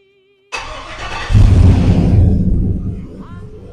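A Chevy truck engine fires up, cranking briefly before catching into a loud, steady low idle that settles slightly toward the end, heard up close and alone after a moment of near silence.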